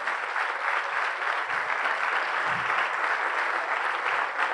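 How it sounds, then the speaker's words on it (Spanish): A church congregation applauds loudly and continuously during a sermon, a dense, even wall of clapping from many hands that holds steady throughout without talk. "Y usted aplauda más duro entonces, para que quede bien grabado ese aplauso."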